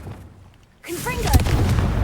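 A Confringo spell blast in Hogwarts Legacy: after a near-silent moment, a sudden booming impact breaks out and rumbles on, with a brief voice heard over it.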